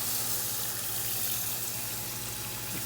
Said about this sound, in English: a little small pitcher of water, and we're going to pour that in here